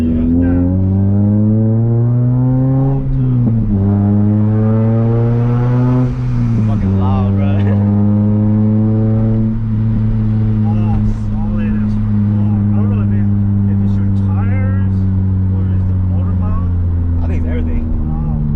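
An Acura RSX on new stiff suspension bushings drives with a loud, steady engine drone that rises and falls through gear changes, with people talking over it throughout.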